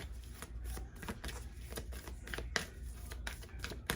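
Self-care cards are shuffled briskly, giving a quick run of riffling slaps and flutters that stay close and soft and carry on with no talk over them.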